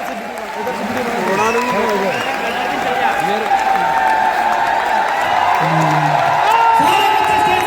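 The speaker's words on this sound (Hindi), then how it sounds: "एक बार जोरदार तालियों से उनका स्वागत करेंगे" Loud, steady applause from an audience at a student felicitation program, filling the hall as selected students come on stage, with some whoops, crowd noise and a voice over the clapping throughout.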